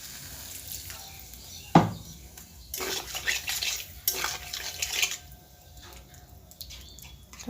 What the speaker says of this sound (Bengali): এবার এগুলো মেশানো হয়ে গেলে পরিমাণ মতো জল দিয়ে দেবো।